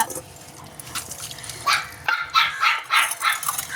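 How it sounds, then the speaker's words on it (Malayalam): A dog barks in a series of sharp, repeated barks, fairly close, with brief yips between them and a quiet background. "നമ്മുടെ ചെക്കൻ കുരയ്ക്കാണ്"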